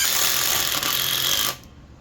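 A Flex compact impact driver and a DeWalt DCF845 impact driver run together in a head-to-head test, a loud, dense, high-pitched whirring rattle that cuts off abruptly near the end.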